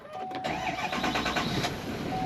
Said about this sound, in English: let's go ahead and start up this DuraMax Diesel and get this truck started